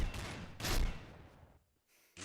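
Shotgun blasts in a video game arrive as two broadband booms, the second louder and longer, followed by a quiet gap and then another sharp burst at the end.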